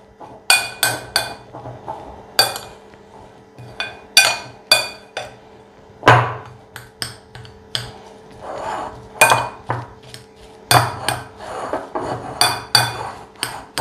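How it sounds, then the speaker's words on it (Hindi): A utensil scrapes and clinks against a bowl while chicken and vegetable sandwich filling is mixed, making a run of sharp, fairly loud metallic taps in irregular bursts with short pauses between them. "इसको इतना मिक्स करना है कि ये यकजान हो जाए"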